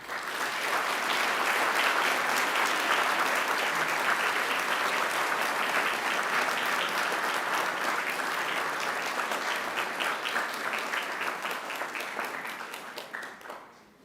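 Families and friends at a university graduation ceremony applaud the graduates, a broad, sustained roar of many hands clapping in a large hall that stays even for a long stretch before tapering off at the end.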